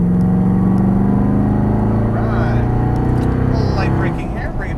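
A Corvette Stingray on a Las Vegas race track, its engine droning steadily under acceleration and loud from inside the car, with a voice talking over it.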